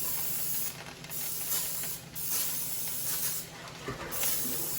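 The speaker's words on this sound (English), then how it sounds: "I'm just gonna spray this so it does not stick." Non-stick cooking spray hisses from a can into a crock pot in three bursts separated by short pauses, close and loud.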